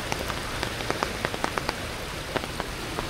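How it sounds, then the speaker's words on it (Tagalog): Steady rain falls continuously in Noveleta, Cavite, a soft even hiss of water on surfaces, heard from nearby at low volume, with scattered individual drops ticking through it and no voices. "Pero dito guys ngayon tuloy-tuloy ang ulan."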